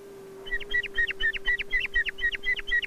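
A swamp sparrow sings a steady trill of about a dozen identical chirpy syllables, evenly spaced, over a constant low electrical hum.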